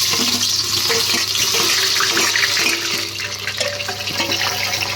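Onion dropped into hot oil seasoned with green cardamom and bay leaves gives a loud, steady, rushing sizzle that runs throughout, easing slightly partway through, with no speech.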